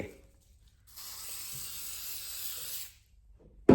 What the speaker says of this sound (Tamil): நல்லாவே ஹேரை துடைச்சிட்டு அப்புறமா இந்த ஸ்ப்ரே